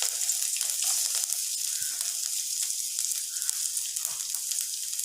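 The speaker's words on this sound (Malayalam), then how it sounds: "അപ്പം നമ്മുടെ ചട്ടിയും എണ്ണയ്ക്കൊന്നും ചൂടാകുമ്പോഴത്തേക്കും നമ്മൾ ഇതിനകത്തേക്ക് ഇഞ്ചിയും വെളുത്തുള്ളിയും കൂടി ആഡ് ചെയ്ത് കൊടുക്കുകയാണ്." Ginger and garlic sizzle in hot oil in a pan for a Gopi manchurian dish, a steady crackling hiss throughout, close and fairly loud, with no voices.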